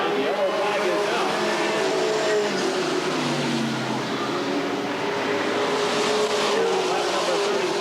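Street stock race cars circle a short oval track, engines droning loudly and continuously with rising and falling pitch as the pack runs under caution, with crowd and track ambience behind and a voice talking over it.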